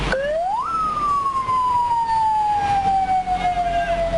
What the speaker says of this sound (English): Outside on the streets, an ambulance whizzes past